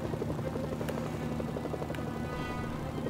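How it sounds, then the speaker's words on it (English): A helicopter in the video game Mercenaries: Playground of Destruction hovers close by with a steady, loud rotor chop and engine drone, continuous throughout with no talking. "this helicopter spawned here, messing up my disguise"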